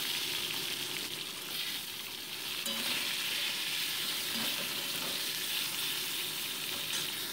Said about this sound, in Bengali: এবার ওই তেলের উপরেই লম্বা করে কেটে রাখা বেগুনের টুকরোগুলোকে ভেজে আমি তুলে রাখছি